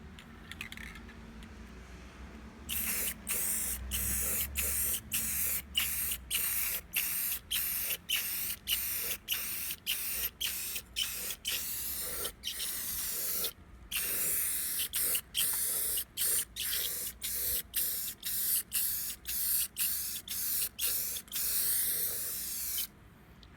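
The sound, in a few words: spray painting a cleaned rear differential cover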